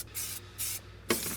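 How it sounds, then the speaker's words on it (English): Clear coat sprayed onto a BMW 850CSi in three short hissing aerosol bursts, close and fairly loud, with brief pauses between them and no talk. "Okay, I have clear coat."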